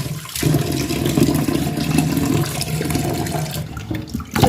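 Tapioca washed under running water in a kitchen gives a steady, fairly loud gush with splashing throughout, easing briefly near the end with no speech.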